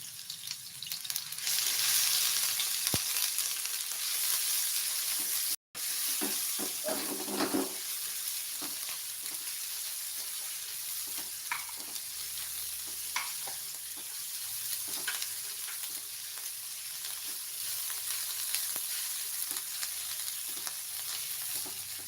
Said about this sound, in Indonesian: Ditumis sampai harum ya.